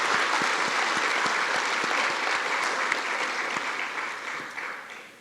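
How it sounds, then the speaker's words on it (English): A crowd claps steadily at a 9/11 remembrance ceremony, a full, sustained round of applause with some sharper individual claps, gradually thinning toward the end. "let's also give him a round of applause"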